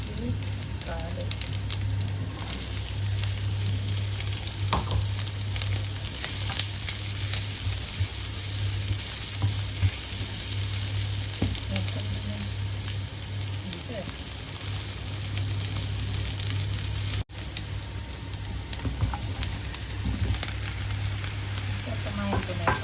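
Garlic and vegetables frying in a hot pan give a steady, dense sizzle with occasional stirring scrapes, running continuously at close range with no break.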